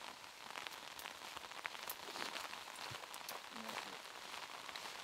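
Steady rain falls on an outdoor disc golf course during a professional tournament round, a dense constant hiss with scattered droplet taps that swells slightly as it continues, with no talking.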